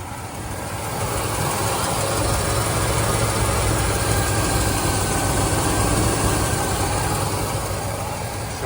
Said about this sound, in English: let's get in close and have a listen to that 472